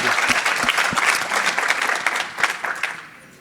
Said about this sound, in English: You can clap your hands for Yarden.